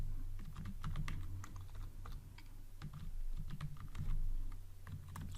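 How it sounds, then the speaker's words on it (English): A computer keyboard clatters with fast, continuous typing as Kotlin code is entered. The keystrokes are close, dense and steady, with no talking. "So I'm gonna type val"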